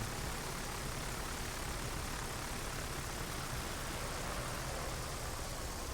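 Engines of a Wright brothers aircraft in a video game, a steady even droning hum that holds at the same level throughout, with no voices.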